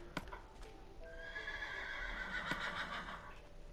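Horses neighing in the Minecraft video game, a drawn-out whinny rising and fading over a steady low background, with a few short hoof-like clicks and no talk.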